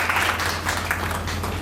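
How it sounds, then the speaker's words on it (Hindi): A small indoor crowd at a women's club founding-day event claps to welcome the club president and secretary, a brief burst of moderate, uneven applause. "तालियों से स्वागत"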